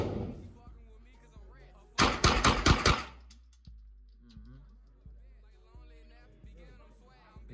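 A CZ Scorpion fires a rapid burst of about half a dozen sharp, loud shots at a shooting range, bracketed by casual talk and softer clicks and thuds.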